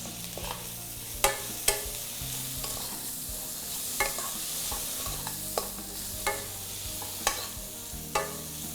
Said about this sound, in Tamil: இதெல்லாம் வதங்கிட்டு இருக்கட்டும்.